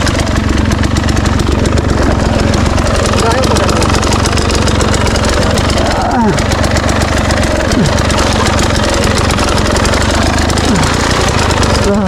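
Enduro trail motorcycle engine running steadily through a river crossing, a loud continuous mid-pitched drone with revving swells, mixed with rushing water and voices talking over it.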